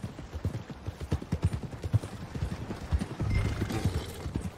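Horse hooves clop in a steady, quick rhythm during a ride in Red Dead Redemption 2, close and distinct, with a brief rougher patch toward the end; no one speaks.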